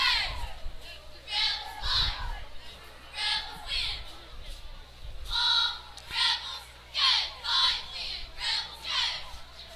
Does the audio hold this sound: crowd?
yes